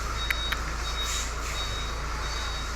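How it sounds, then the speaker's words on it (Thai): A ten-wheeler truck hauling a load of garlic backs up, its reversing alarm beeping over a steady diesel engine rumble, with air-brake hiss and no talk. "สิบล้อครับขนหอมครับ หอมกระเทียม"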